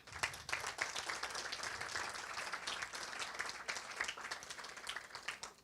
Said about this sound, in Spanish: A todos ellos un fuerte y caluroso aplauso